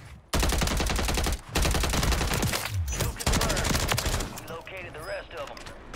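Rapid gunfire from a SUPERI 46 submachine gun in a battle royale game on Rebirth Island, loud sustained bursts with brief pauses, close and dense, with other game effects and faint speech underneath.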